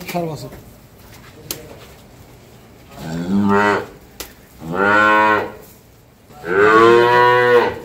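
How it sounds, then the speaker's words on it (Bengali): A young bull calf on a dairy farm moos three times, long, loud, close calls spaced a couple of seconds apart, with soft background noise between them. "ষাঁড় বাচ্চা।"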